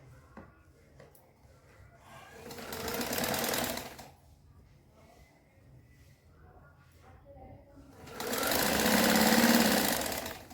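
A sewing machine stitches the waistband of a Patiala salwar in two runs, the second longer, with quiet pauses between them and a soft voice speaking in the background.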